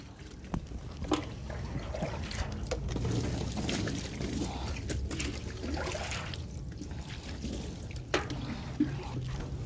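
Water is poured over a body turned onto its right side during ritual washing of the deceased, a soft continuous splashing and trickling with occasional sharper drips and knocks, close by and moderately quiet.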